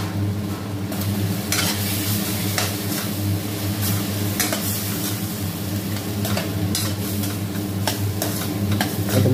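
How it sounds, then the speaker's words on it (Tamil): Tomatoes and onions sauté in a pan for a drumstick curry, a constant close frying sizzle under repeated sharp scraping and clinking strokes of a spoon against the pan, with no talking. "நல்லா தக்காளி வெங்காயத்தை மட்டும் நல்லா வதக்கிக்கிட்டிங்கன்னா குழம்பு டேஸ்ட்டாக இருக்கும்"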